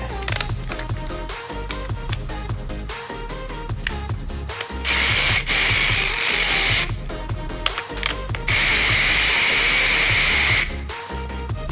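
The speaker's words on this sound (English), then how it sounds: "these two 8mm nuts here to remove our clutch. Trusty old electric ratchet." Electric ratchet removing two 8mm nuts from the clutch of a Honda CRF250L dirt bike, giving two loud, close bursts of buzzing, clicking mechanical whir several seconds apart over background music.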